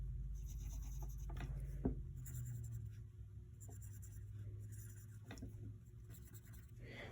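Pencil scratching across paper while working an addition problem, with short strokes and scribbles close up and faint throughout.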